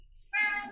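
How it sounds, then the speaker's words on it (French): A cat gives a single clear, close meow that starts abruptly and tails off slightly, standing alone against a quiet background. "on entend un beau chat."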